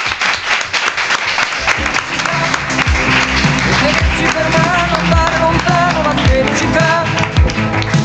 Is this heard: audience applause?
yes